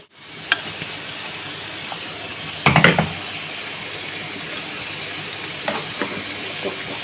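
Cooked dal is stirred into simmering vegetable sambar in a pot, with a steady low sizzle and a brief cluster of scraping, clattering spoon strokes midway, plus a few isolated clinks.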